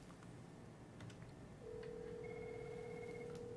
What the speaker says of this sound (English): So that's ringing in right now